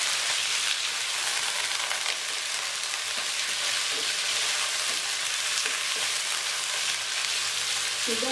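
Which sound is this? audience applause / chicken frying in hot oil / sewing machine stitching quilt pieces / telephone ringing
chicken frying in hot oil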